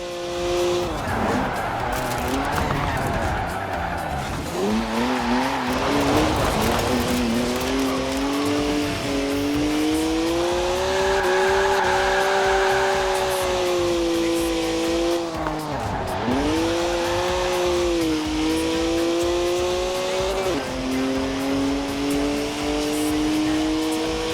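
A BMW car in the video game Forza Horizon 4 revs and accelerates hard, engine pitch rising and falling through shifts with tire squeal and skidding, loud and continuous.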